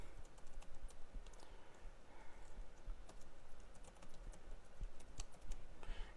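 Quiet, irregular clicking of keys on a computer keyboard as a name is typed in, soft and close, with no voices.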